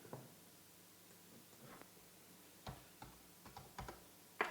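Scattered, soft keystrokes on a computer keyboard while entering values in a Scratch coding project, irregular clicks spaced apart and faint against a quiet room.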